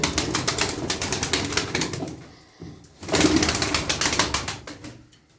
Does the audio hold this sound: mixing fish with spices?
no